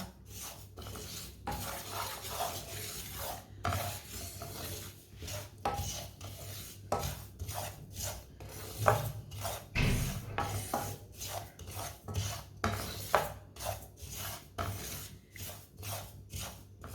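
A spoon stirs ingredients browning in a pan over a lowered flame, producing steady rhythmic scraping and rasping strokes, close and fairly quiet, repeating throughout with no talking.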